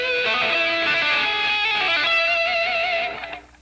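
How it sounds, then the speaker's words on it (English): Distorted electric guitar notes tapped on the strings with the forefinger or second finger ring out continuously for about three seconds, bright and overdriven, then fade away, with no talking over them. "you can tap that with your forefinger or second finger"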